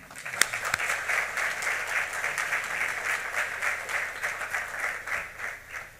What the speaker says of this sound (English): please stand and give a round of applause to your faculty members